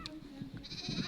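A sheep bleats on an African village farm in a short, fairly close call over faint background noise.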